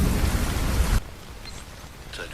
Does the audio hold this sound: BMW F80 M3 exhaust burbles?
no